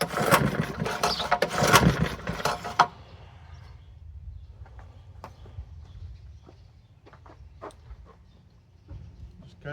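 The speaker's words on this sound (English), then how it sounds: "Just kind of seems like this little engine's not wanting to run." A 1950s Briggs and Stratton model 6S small engine is cranked and fails to start; a few seconds of loud pulling and sputtering give way to quiet, with scattered clicks and taps.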